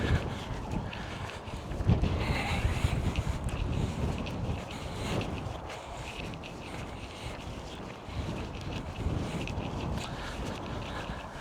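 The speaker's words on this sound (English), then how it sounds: "Definitely the right choice to use the wireless mic with a wind muff because it is windy down here." Wind gusts through a canyon on a day hike and buffets a microphone with a wind muff: a steady, low, rushing roar that swells and eases for the whole stretch, with no voices.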